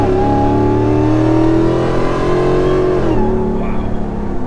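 A Hellcat-swapped Jeep Gladiator with over 750 horsepower accelerating hard in rear-wheel drive mode, its engine a loud, close, rising drone that dips briefly at a gear change and then climbs again.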